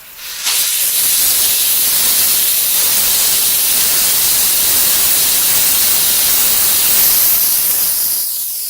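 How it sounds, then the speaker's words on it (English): A Chief steamer blasts a continuous, loud hiss of steam onto a car hood to lift tree sap. The jet starts abruptly and runs steadily for several seconds before easing off. "Now we're going to go back to steam."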